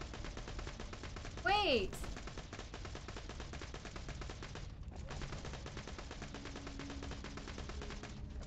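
Rapid continuous gunfire from an infinite-ammo gold gun in a video game, a dense machine-gun-like rattle filling the whole stretch with a brief pause midway, under a short shouted voice.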